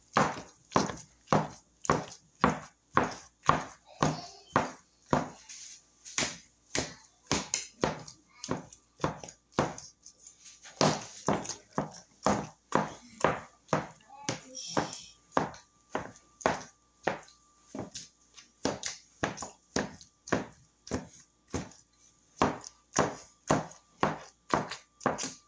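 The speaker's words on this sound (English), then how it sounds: "we're going to continue chopping" Apple cinnamon bread dough gets chopped on a board with a steady run of sharp, evenly spaced knocks, dozens of quick faint strikes in a regular rhythm with a brief pause midway.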